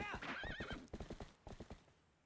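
Epona, the horse in Zelda: Twilight Princess, gives a sharp whinny and then a quick run of hoof clops fading out, with faint game sound underneath.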